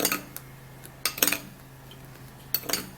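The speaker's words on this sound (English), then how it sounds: "then we'll put it in here and stir it" A spoon stirs a foamy leg-scrub mixture in a container, giving a few quick clinks and scrapes in short bursts against a quiet background.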